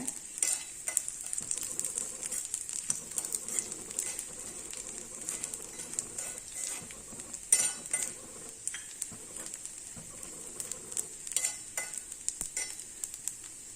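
Roasted gram stirred in a pan for Karthigai pori: a spoon scrapes and clinks against the metal in an irregular rhythm over a soft, continuous sizzle, close and with no voices.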